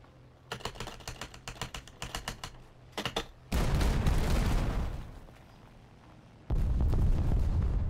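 Bombs from a German bomber hitting ground targets in War Thunder, heavy rumbling blasts that swell loudly twice and linger, preceded by rapid clicking keyboard taps up close.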